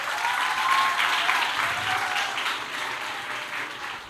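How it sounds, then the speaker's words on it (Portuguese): An audience breaks into sustained applause, a dense wash of many hands clapping at once that holds steady for about four seconds and fades slightly at the end. "Palmas aí para a Silmara."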